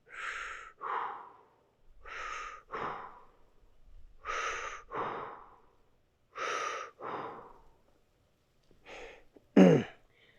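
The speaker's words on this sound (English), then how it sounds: "And breathe in." Slow, deep breaths taken during a neck and shoulder stretch, with roughly five paired inhales and exhales in a steady rhythm, close and quiet, followed by a sharper breath near the end.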